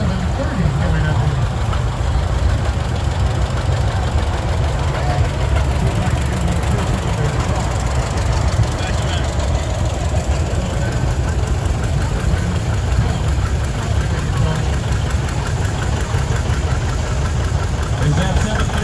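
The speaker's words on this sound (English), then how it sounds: "1959 John Deere 730 coming up." A 1959 John Deere 730 diesel tractor runs at a steady, loud, low idle throughout a tractor show parade, with a constant deep chug and a voice faintly over it.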